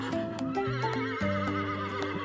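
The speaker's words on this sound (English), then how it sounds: "It's a horse." A horse whinnies on a farm in a sustained, quavering neigh, close and fairly loud, with faint hoof clip-clops beneath the call.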